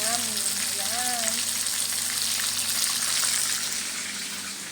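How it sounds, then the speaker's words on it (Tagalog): Fish frying in a pan for a home lunch, giving a loud, steady sizzle and crackle that fills the whole stretch, with a brief voice-like tone near the start. "At ang piniprito ko lang po ay itong ulam namin."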